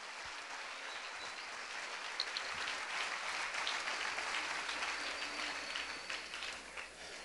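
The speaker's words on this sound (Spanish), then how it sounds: "Dale un aplauso fuerte al Señor." Strong, sustained applause from a church congregation, a dense steady wash of many hands clapping that swells slightly in the middle and holds without talk throughout.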